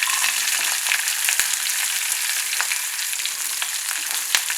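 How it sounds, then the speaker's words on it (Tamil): Bitter gourd with curry leaves sautéing in a hot oiled pan, a steady close sizzle and crackle throughout with occasional sharp pops and light stirring scrapes, no voices. "ஒரு 3 நிமிஷம் வரைக்கும் இதை வதக்கிடணும்"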